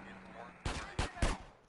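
Three sharp Desert Eagle pistol shots from GTA San Andreas ring out at a steady pace, loud and close, each with a short decaying tail over faint background game noise.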